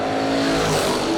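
1964 Plymouth Savoy with a 426 Hemi at a drag strip, a loud sustained engine roar with a steady drone, brief and close.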